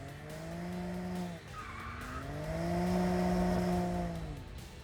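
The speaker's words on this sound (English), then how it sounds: "a 526 brake horsepower 3-litre turbocharged straight 6" A BMW M2 with a 526 bhp 3-litre turbocharged straight-six howls through a drift, its tires squealing and skidding loudly as the engine pitch climbs and falls in sweeping revs.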